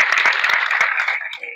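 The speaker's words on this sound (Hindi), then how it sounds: "तालियां बजा दो भाई।" A group of people clapping together at a Kali Mata prayer gathering, dense rhythmic hand claps close by that taper off toward the end.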